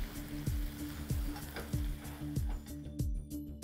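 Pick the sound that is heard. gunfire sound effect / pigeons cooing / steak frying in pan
steak frying in pan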